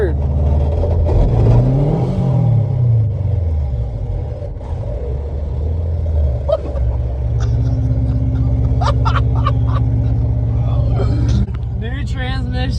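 A 2007 Subaru Impreza WRX with new head gaskets, cylinder heads and transmission accelerates on a test drive, its engine rumbling and rising in pitch through the gears with steady cabin road noise. A person speaks briefly over it.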